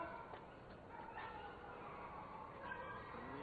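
Dogs barking faintly in the distance, with several scattered yips and whimpers sounding low and muffled over a quiet background hiss.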